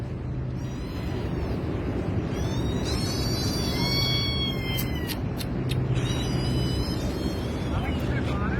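A trapped cat meows repeatedly, rising wails over a steady loud background rumble, with faint voices now and then.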